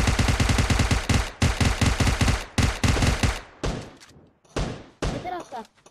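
Gunfire in the PUBG Mobile video game: rapid automatic bursts of loud, close shots in quick rhythmic runs, then a few separate shots with short pauses between them.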